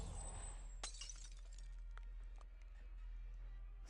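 A shattering effect from the game Arknights: a sharp broken-glass burst near the start, followed by scattered tinkling fragments that fade over a low steady background hum.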